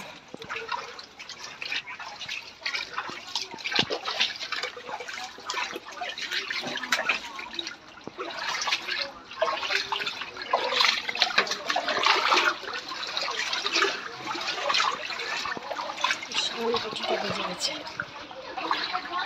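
Water sloshing and splashing as people wade through floodwater in a yard and along a lane, with a steady, uneven churning that continues throughout.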